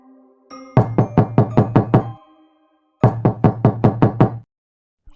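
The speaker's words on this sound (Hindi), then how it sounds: "इतना सुनते ही दरवाजे की खटखटाहट तेज हो जाती है।" Loud knocking on a door, two rapid series of about six heavy thuds each separated by a short pause, close and forceful.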